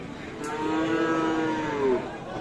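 A cow moos once, drawn out and fairly close, at a busy cattle market selling Sahiwal cows with calves, over a low crowd murmur.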